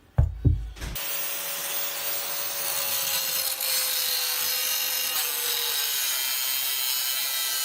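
An angle grinder fitted with a metal cutting disc cuts through a small piece of metal during bathroom renovation work, a few thuds then a loud continuous high grinding screech, close and steady.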